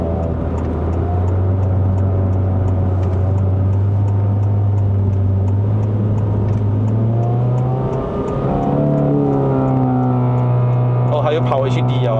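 A facelifted GN5 Honda City Hatchback RS engine on a road drive in Malaysia, with a steady drone that climbs in pitch, drops sharply as a gear is changed with the paddle shifters, then climbs again inside the cabin.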